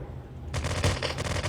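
Rapid bursts of gunfire from a shooter video game, a shotgun among them, ring out in quick succession after a brief quiet, dense and moderately loud.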